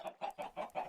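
Chickens on a video game chicken farm packed with about 200 birds cluck in a steady run of five quick, even bursts, close and alone with no talk.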